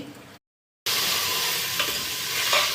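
Basmati rice stirred and roasted in ghee, giving a steady crackling sizzle with soft scraping stirs after a short silent gap; a few brighter clicks of the spoon near the end.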